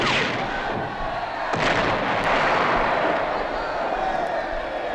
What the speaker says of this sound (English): Listen to the cannons.